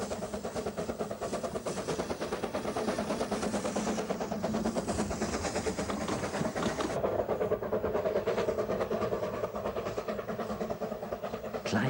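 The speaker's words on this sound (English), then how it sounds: "The journey from Aberystwyth to the Devil's Bridge takes approximately an hour" A narrow gauge train on the line from Aberystwyth to Devil's Bridge, a steady rhythmic rumble and clatter of wheels and engine rolling along continuously, with no talk.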